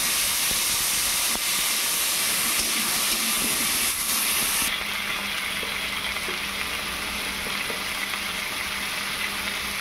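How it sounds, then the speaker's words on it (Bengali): Chopped chilli and tomato sautéing in a pan give a loud, constant hiss and sizzle that continues without a break, with a slight change in tone partway through. "তারপরে দিয়ে দেবো কুচানো লঙ্কা আর টমেটো। এখন ভালো করে এগুলো কষিয়ে নেব।"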